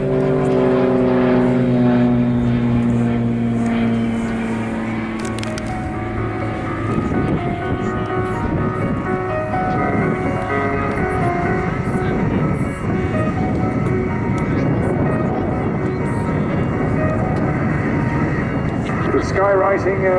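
A Mudry CAP 232 aerobatic propeller plane performs at an airshow, its engine droning and swelling as it climbs and turns through tight manoeuvres, loud and continuous while a commentator talks over it.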